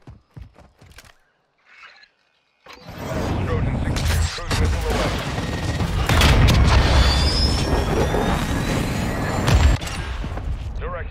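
Cruise missile killstreak strike in Modern Warfare 2: after a few brief sounds and a pause, a loud sustained rumbling blast roars in and holds for several seconds with crackling booms, fading slightly at the end.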